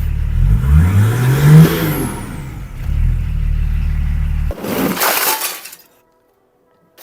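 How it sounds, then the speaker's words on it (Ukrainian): A BMW engine, started with no muffler fitted and wiring and running gear not yet fully assembled, gives a loud raw close rumble with a rising rev, a harsh burst, then cuts to silence. "Ну і працює без глушника, глушник не одівав"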